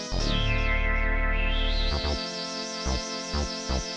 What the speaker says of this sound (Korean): 제가 또 선택한 SH-101의 베이스 소리를 들려드릴 건데 아까 방금 했던 주피터 8이랑 제가 믹스해서 써보겠습니다.